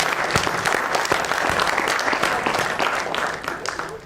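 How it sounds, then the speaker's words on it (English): Close, loud audience applause for student performers at the 51st Speakarnival, a thick steady round of many hands clapping that holds throughout and eases slightly near the end. "give them a big round of applause to appreciate their performance"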